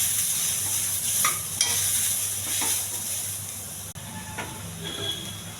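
Tempering made with little oil hisses quietly in a pan for an ivy gourd fry, a low, steady sizzle broken by a few light stirring clinks, with no voices.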